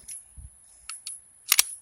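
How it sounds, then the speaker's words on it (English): Metal parts of an 1860 Army revolver clicking as the cylinder and barrel slide on, a few short, sharp, close taps and scrapes with quiet pauses between them and no talking. "slide the cylinder on, slide the barrel on"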